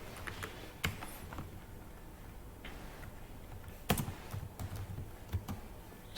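Typing on a computer keyboard during a CSS coding session, scattered close clicks and keystrokes in irregular bursts over a quiet room, with no speech.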